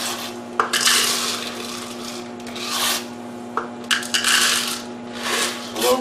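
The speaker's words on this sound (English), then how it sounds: "We're going to put 2 cups of macaroni noodles in here." Dry macaroni noodles pour into a pot for Huntington chicken in a home kitchen, giving loud, close rattling and rasping hisses in several bursts over about six seconds, with brief pauses between pours and no talking.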